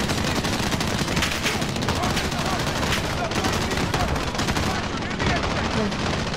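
Heavy, continuous light machine gun fire in a video game campaign, a dense unbroken roar of rapid shots filling the whole stretch at close range, with a voice partly under the barrage.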